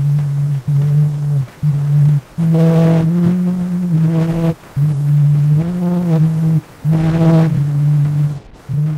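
The first sound ever recorded: a faint, thin melody sung by a voice through heavy crackle and hiss, phrases separated by short gaps, sounding old and distorted.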